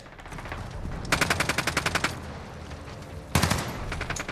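An IWI Tavor TAR-21 rifle fires in Call of Duty Modern Warfare: one rapid automatic burst of about ten sharp shots, a pause, then another loud shot and short burst, with no voices.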